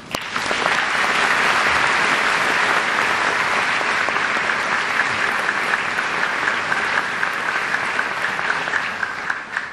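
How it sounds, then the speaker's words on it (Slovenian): Sustained applause from a large audience fills the room at an even, loud level throughout, a dense wash of clapping with no individual voices standing out. "zato še en aplavz za vse."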